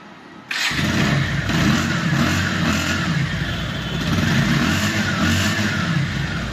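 A second-hand blue Bajaj Pulsar 150cc motorcycle with double disc brakes and 1332 km on the meter starts up and idles, its engine running with a steady, loud, close rumble.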